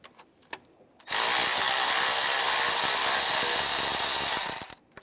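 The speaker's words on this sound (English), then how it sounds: "Take these four bolts out, use a T30 socket." A power tool with a T30 socket spins out bolts on a 2011-2018 Ram 1500 3.6L V6 oil filter cooler housing, one sustained close whirring burst of about three seconds between quiet moments.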